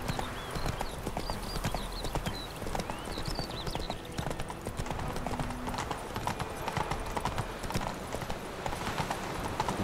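Horse hooves trot in The Witcher 3, a steady, rapid clip-clop rhythm close up over continuous ambient game sound, with a few faint bird-like chirps.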